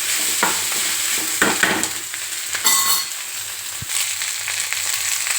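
Potato pieces tossed into a pan of fried onions with curry leaves and dried green chilies, stirred with repeated spoon scrapes over a continuous close sizzle.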